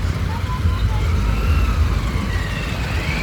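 Cars and two-wheelers sit stopped in a road traffic jam, a steady low rumble of idling engines heard close by, with faint higher tones drifting over it.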